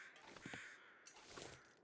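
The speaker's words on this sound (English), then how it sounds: "Those were flying over crows." Crows caw twice while flying overhead in the survival video game The Long Dark, harsh rasping calls that sound faint and distant with no talk.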